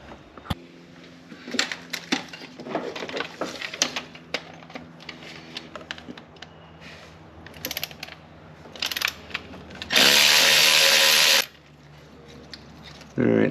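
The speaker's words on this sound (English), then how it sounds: "Take that last bolt out and then hopefully pop that guy off." Ratchet wrench removing the last 12mm bolt from a Mitsubishi Evo 8 engine, rapid clicking strokes close up in bursts, then a loud harsh burst near the end, with a voice talking quietly at times.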